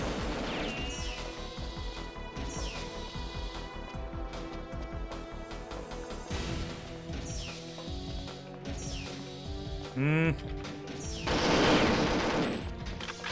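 Dense gunfire from the video game Perfect Dark, with rapid bursts and sharp shots layered over continuous game music and effects, loud and busy throughout the stretch.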